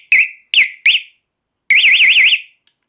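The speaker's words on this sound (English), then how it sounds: "our Valentine radar detector. Best investment you can ever make." Valentine radar detector alert inside a vehicle: three short sharp beeps followed by a longer warbling electronic tone, loud and close, with no talk.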